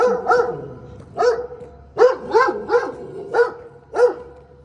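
A large dog at a company premises barks loudly and close by, a string of sharp, repeated barks in uneven bursts, some doubled.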